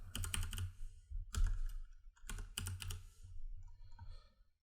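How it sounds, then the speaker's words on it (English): Quick bursts of keystrokes on a computer keyboard, typing in test Visa card details, come in several close clattering runs separated by short pauses. "So I can then type in this test Visa card."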